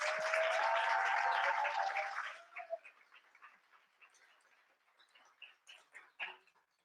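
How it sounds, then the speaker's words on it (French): Audience applause at a web development bootcamp demo day in Marseille: a full burst of clapping that fades after two seconds into scattered, thinning individual claps, moderately distant. "Je vous invite à les applaudir très fort."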